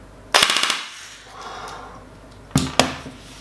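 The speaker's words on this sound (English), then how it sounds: "Flick it to full auto." A Classic Army DT4 double-barrel M4 airsoft gun fires on full auto in two short, rapid bursts of sharp clattering shots, close and loud, separated by a brief pause.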